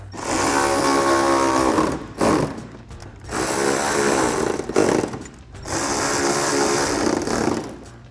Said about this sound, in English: And then take our 10mm socket to tighten these down.